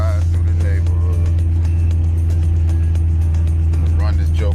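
An Oldsmobile Cutlass G-body cruises through a neighborhood with a loud, steady low engine drone from inside the car, while someone talks over it and speech blips through.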